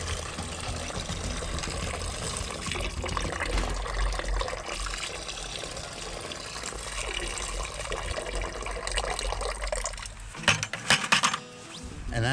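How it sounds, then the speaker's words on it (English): Water tipped out of a bucket at a creek during a cleanup, a steady splashing pour that runs for several seconds, then a few louder splashes and gurgles near the end. "Pour some of that old yuck water on."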